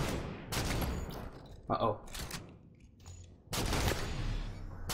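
Gunfire in a sniper shooter video game sounds in loud, close bursts with gaps between them. Someone speaks briefly between the shots.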